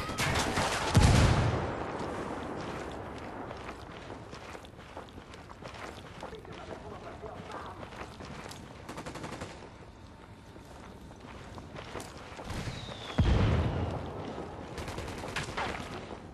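Gunfire in the tactical shooter Ghost Recon: Wildlands, with sharp heavy shots near the start and again near the end amid a busy combat backdrop of rattling fire and movement.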